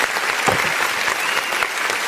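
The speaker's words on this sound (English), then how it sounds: "Let us quickly applaud you first." Audience applause at an online gathering, a loud burst of clapping from several people that holds steady for about two seconds with a few scattered voices mixed in.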